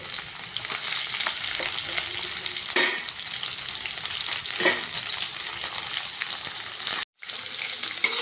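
Carrot, capsicum and onion fry in hot oil in a pan while being stirred, a steady close sizzle with occasional scraping stirs and a brief dropout near the end.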